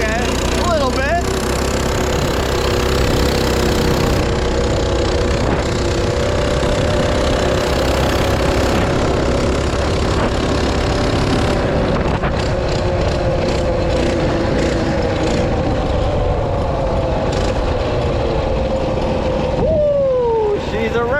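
A minibike engine revs hard during a wheelie attempt, a loud, close, buzzy whine that climbs and falls in pitch, with rider voices heard briefly over it.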